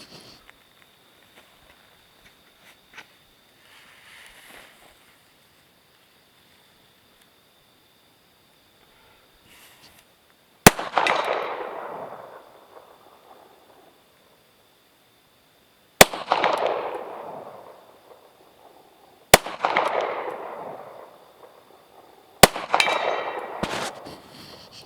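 Gunshots at 75 yards striking a steel target, four sharp loud reports spaced several seconds apart, each followed by a ringing decay, with faint shuffling between them.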